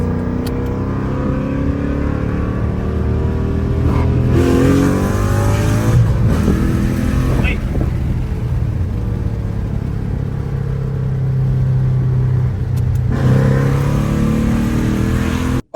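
Ford Mustang GT with a loud modified exhaust pulling away, a deep rumbling engine that revs and surges through a couple of accelerations, loud and close, then cutting off abruptly.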